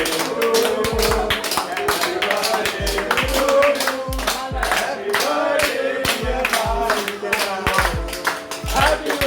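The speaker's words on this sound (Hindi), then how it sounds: "हैप्पी बर्थडे, तालियां बजाओ भाई" People clap along at a birthday party in a restaurant, sharp rhythmic claps near the listener with voices singing and talking over them throughout.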